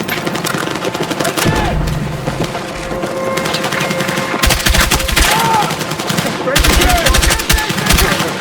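Sustained automatic gunfire fills a Battlefield 6 combat scene as suppressive fire, rapid bursts loud and close with heavier clusters of shots, mixed with battlefield clutter and occasional shouted voices.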